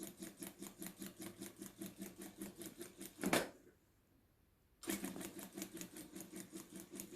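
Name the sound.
sewing machine stitching fabric for a vintage sleeve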